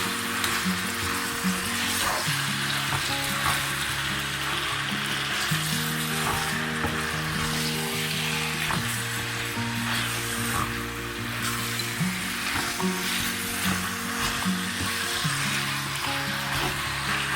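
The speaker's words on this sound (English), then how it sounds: "cook the mince for good" Lamb mince sizzles and fries loudly in a pan, a dense continuous hiss with occasional stirring, close and steady throughout with no talking.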